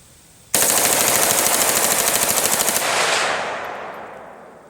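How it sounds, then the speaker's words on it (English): A VZ-58 rifle fires a rapid full-auto burst of about two seconds, very loud and close, then a long fading echo rolls off into quiet. "It gives you a little bump in the cheek because it's such a light weapon with this pretty stout recoil."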